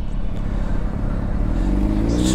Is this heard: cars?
yes